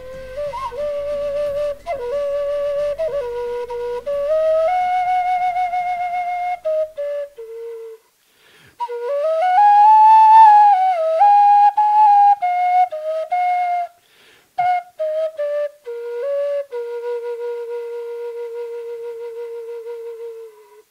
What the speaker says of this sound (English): that was a great welcome whistling